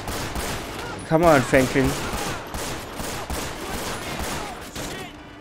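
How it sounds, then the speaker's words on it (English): Gunfire in Grand Theft Auto V on the streets of Los Santos: a string of sharp, rapid shots close by, repeating steadily through the whole stretch while someone talks over part of it. "Who the hell is shooting me?"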